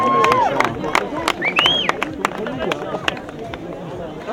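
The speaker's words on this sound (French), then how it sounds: "Les photos, le crépitement des flashs, les applaudissements du coach de Chamsar" A lively crowd at a sports event in Alpe d'Huez claps and cheers in scattered bursts, with whistles rising over the noise while voices talk loudly and continuously throughout.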